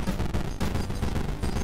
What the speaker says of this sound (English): It's a therapeutic noise, the gentle thumping of the speed bag.